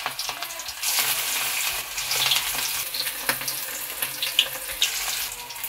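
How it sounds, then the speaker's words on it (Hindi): Leftover rice pakoras frying in hot oil, a steady broadband sizzle with crackling pops and occasional sharper spits, close and fairly loud, with no voices. "इसी तरीके से हम सारे पकौड़ों को गर्मा गर्म तेल में बनाकर डालेंगे।"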